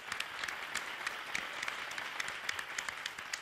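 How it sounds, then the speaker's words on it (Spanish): A TV game-show studio audience applauds steadily, a dense patter of clapping hands at moderate distance with no voices over it. "¡Un aplauso para ellos!"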